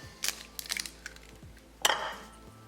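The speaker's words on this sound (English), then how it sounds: "2 eggs, we'll break it open" Two eggs being cracked open on a kitchen counter give sharp, brief taps and clinks against a bowl, followed by a louder crack and shell break, close by with no talk.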